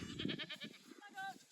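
A big herd of goats mixed with a flock of sheep bleats repeatedly while being driven along, their wavering calls overlapping at close range with some voices among them.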